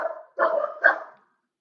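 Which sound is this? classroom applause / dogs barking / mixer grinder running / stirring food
dogs barking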